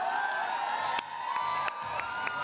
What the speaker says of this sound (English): But the crowd are certainly behind them, certainly loud